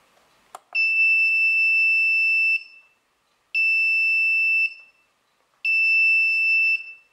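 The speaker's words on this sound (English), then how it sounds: "this is the same piezo alarm that's used in my non-lethal rodent trap" A piezo alarm driven straight from a 555 timer output sounds in three loud, steady shrill tones of about two seconds each, separated by short gaps, after a brief click at the start.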